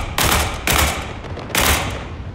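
Three loud bursts of machine gun fire ring out in a war video game, each burst rattling for about half a second with brief gaps between them, close and with no talk.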